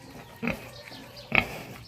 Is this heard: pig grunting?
yes